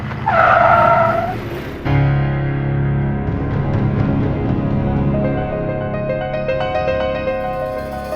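A car skids and squeals to a stop in a dramatized drama scene, with a loud tire screech in the first two seconds followed by a sustained engine rumble and music-like tonal layers.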